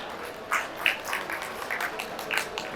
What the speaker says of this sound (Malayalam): നമുക്ക് ചേച്ചിയുടെ ഫാമിലിക്ക് വലിയൊരു കയ്യടി കൊടുക്കാം